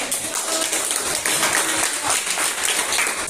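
A class of students claps at the end of a lesson, a steady burst of hand clapping close by with no clear talk over it.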